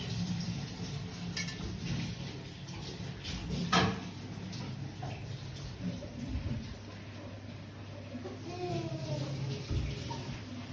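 Water poured into a pot of stuffed peppers in a home kitchen, a soft splashing trickle under faint clatter of pots, fairly quiet and close, with a brief knock midway.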